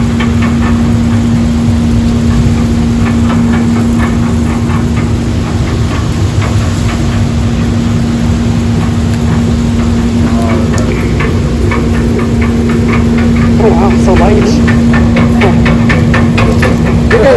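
Large rotating drum dryers for coffee beans run steadily on a coffee farm in El Salvador, giving a loud, continuous mechanical hum with a constant low tone and scattered clanking from the tumbling beans throughout.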